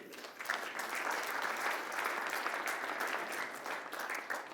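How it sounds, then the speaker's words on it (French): An audience at a Monaco e-health awards session applauds, a steady, moderately distant wash of clapping that swells quickly and carries on evenly for several seconds without speech. "on peut vous applaudir beaucoup"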